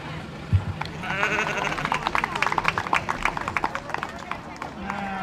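Market lambs bleat at a county fair sheep show, several overlapping calls amid a bustling crowd, with an announcer's amplified voice speaking throughout.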